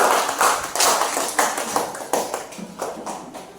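A classroom audience claps for a student group's presentation, a short run of sharp, uneven hand claps close by that thins out toward the end.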